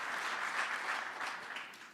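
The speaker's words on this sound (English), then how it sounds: "Lots of cheering there from maybe his family's there to applaud him on" Cheering and applause at a cabinet swearing-in, a dense burst of clapping from a crowd that stays strong and then begins to thin toward the end.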